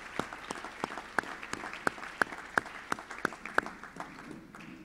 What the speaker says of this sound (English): Let's give these gentlemen a round of applause.